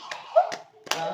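A child claps at a home birthday celebration: a few sharp, separate hand claps spaced about half a second apart, close and fairly loud, with voices talking faintly around them.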